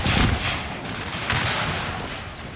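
Musket volleys crackle in the video game Shogun 2 Total War, a dense, continuous roll of overlapping gunfire with heavier bursts rising out of it, heard with no voices.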